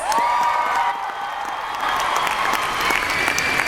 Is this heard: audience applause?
yes